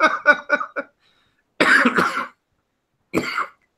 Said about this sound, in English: now I'm laughing so hard I can't stop coughing